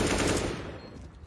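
Automatic gunfire in Counter-Strike, a dense burst of rapid shots at full level that tapers off over about a second, with no talk over it.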